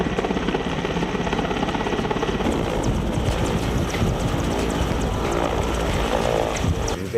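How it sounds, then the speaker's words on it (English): A Russian helicopter flying close overhead, its heavy rotor chop and turbine roar loud, steady and continuous throughout, with no voices over it. "I love the Russian helicopters now."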